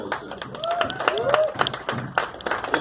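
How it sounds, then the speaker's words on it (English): Audience at a gym event applauding, a steady scatter of claps and cheers with a voice speaking over it. "So give yourself a round of applause."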